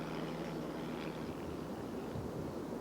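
A scale model airplane makes a flyby at a scale aircraft show in a heavy, shifting crosswind; a steady engine drone blends with constant wind rumble and never fades out.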